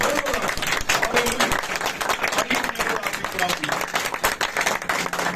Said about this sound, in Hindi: इसलिए मेरे और अपने खुदावंद के लिए जोरदार तालियां बजाएं